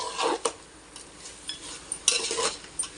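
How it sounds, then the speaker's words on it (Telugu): A spoon stirs chicken pulao with coriander and mint in a pot, scraping and clinking against the metal in irregular strokes, fairly quiet and close, with faint sizzling underneath. "చూసారా, ఇప్పుడు అంతా ఒకసారి కలుపుకుందాం."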